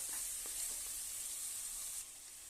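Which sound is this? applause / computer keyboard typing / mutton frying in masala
mutton frying in masala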